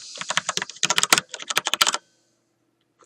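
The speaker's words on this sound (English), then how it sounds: "So I'm just going to type in my file path here." Quick burst of computer keyboard typing as a file path is entered, about two seconds of close, crisp keystrokes followed by silence and one final tap.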